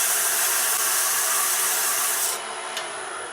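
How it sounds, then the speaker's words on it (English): Turned wooden box being sanded with 220 grit sandpaper on a lathe, a continuous close hissing rub with a steady spinning hum, easing slightly toward the end. "Now we're going to switch to some 220 grit and put a little bit better edge on this."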